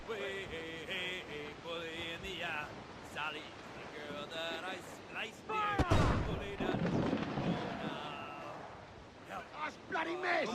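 Ship cannon fire in Assassin's Creed Black Flag, as a ship shells schooners at sea: a heavy boom bursts amid ongoing game noise and battle sounds, with someone talking steadily over the top.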